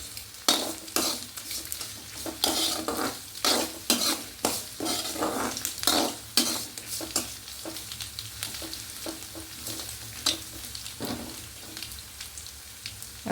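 Ingredients for a thal (taro stem) curry fry in a pan, with a soft continuous sizzle and irregular scraping and clinking strokes of a spoon stirring against the pan, close and moderately quiet.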